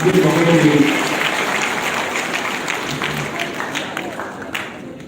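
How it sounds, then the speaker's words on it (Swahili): An audience claps together at a scholarship award ceremony, loudest at the start, then fading into a thinner, sustained patter of clapping with crowd murmur. "wapigeni makofi jamani."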